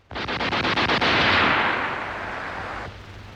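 A submachine gun fires a short burst of about eight rapid shots, loud and close, then the report rolls away into a long fading echo.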